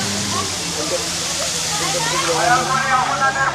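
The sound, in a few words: resort fountain water splashing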